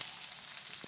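Onion sizzles in hot oil in a pan, a steady close hiss with no break across a very short moment.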